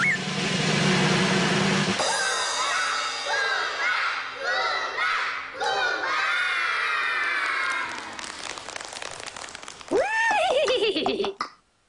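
Tonal animal calls rising and falling over busy circus background noise, ending in a clear horse whinny that drops off sharply, with voices in the mix.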